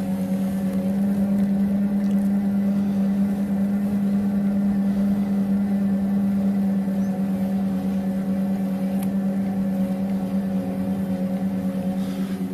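A 250 W electric bike hub motor drives the bike on electric power alone with plastic gears, giving a steady, moderate mechanical hum with a constant low whine that holds evenly throughout, with no voices.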